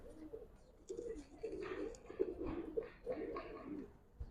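Giribaz pigeons of the Palla line coo at a loft in a soft, low, rolling series of repeated calls, moderately close and steady, with faint voices in the background.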